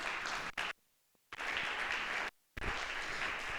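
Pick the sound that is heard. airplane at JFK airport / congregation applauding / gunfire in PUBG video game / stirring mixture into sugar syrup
congregation applauding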